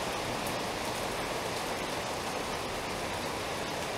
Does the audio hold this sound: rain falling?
yes